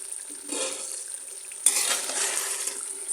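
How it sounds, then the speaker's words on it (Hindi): Chicken sizzling and frying in a karahi for biryani, a steady hiss of hot oil with a louder burst as the pieces are stirred, close and alone with no talking. "चिकन की भुनाई हो रही है।"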